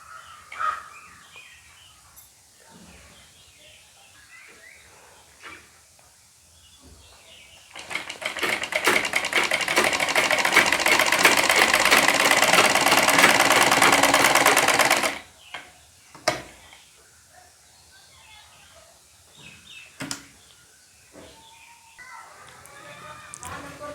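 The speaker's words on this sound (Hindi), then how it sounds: "बड़े टाके लगा लेंगे और कच्ची सिलाई हमें लगानी है" A sewing machine runs for about seven seconds in one fast, even rattling burst, stitching a blouse piece to its lining with long basting stitches; someone talks quietly before and after, with faint birds outside.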